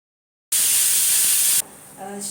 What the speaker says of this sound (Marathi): तीन शिट्ट्या झाल्या कुकरच्या